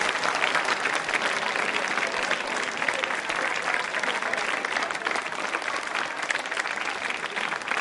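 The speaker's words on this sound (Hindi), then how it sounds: "तालियां जोरों से बजाइए इनके लिए आप" Students in a school quiz show audience clap loudly and continuously, a thick, even roar of many hands with faint crowd murmur beneath.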